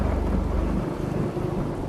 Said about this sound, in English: Within minutes, a storm can strike.